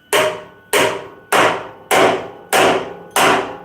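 Six evenly spaced, sharp hammer blows ring out on welded metal being beaten into shape, each strike loud and close with a brief metallic decay, no voices.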